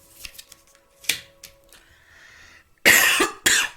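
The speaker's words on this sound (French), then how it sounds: "Excusez-moi, je tousse en plus à côté du micro." A few sharp, harsh coughs close to the microphone near the end, after quieter rustling and small clicks.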